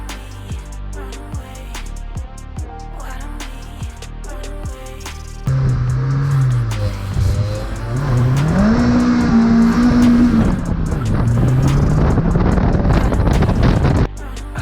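A loud engine roars as a 330 bhp turbocharged Vauxhall VX220 launches at 3,500 RPM, revving hard with tires spinning and squealing, wind buffeting the microphone throughout.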